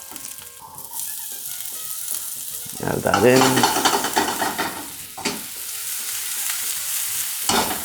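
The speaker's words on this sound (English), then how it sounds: "Just added the garlic in. You can hear the sizzling of it." Garlic and shallots sizzle in a hot pan with a steady frying hiss, growing louder as they are stirred and scraped around; a voice briefly speaks over the cooking.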